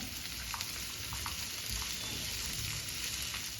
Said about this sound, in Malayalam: ഒരു വലിയ കഷ്ണം ഇഞ്ചി, പിന്നെ 4 പച്ചമുളക് ഇട്ട് കൊടുക്കാം. പിന്നെ ഒരു 6 അണ്ടിപ്പരിപ്പ് കൊടുത്തിട്ടുണ്ട്. ഇതൊക്കെ ഒന്ന് നന്നായിട്ടൊന്ന് വഴറ്റട്ടെ